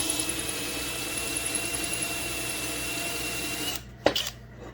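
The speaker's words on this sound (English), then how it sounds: "I don't want to put something in there and break my drill bit off either." A power drill whines steadily and close for several seconds, drilling into the drain plug of a Suzuki RM125, then stops with a couple of sharp clunks as it releases.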